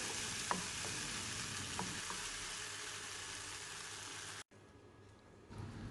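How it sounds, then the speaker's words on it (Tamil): Tomatoes sauteing in a pan for a Chettinad mutton curry, a constant, dense sizzle with a couple of soft stirring clicks, then a sudden brief cut and a quieter, thinner frying hiss afterward. "அந்த தக்காளியோட மேல் தோல் நல்லா வதங்கி வர்ற வரைக்கும் நம்ம வதக்கிக்கலாம்."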